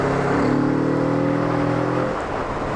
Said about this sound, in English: Oh, that fucking exhaust sounds lovely. It's just got a bit of anger to it.